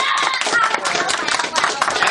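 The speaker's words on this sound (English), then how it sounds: "Give him a bigger clap than that" Audience at a magic and comedy show clapping steadily, a dense, loud patter of many hands sustained for about two seconds, with scattered voices underneath.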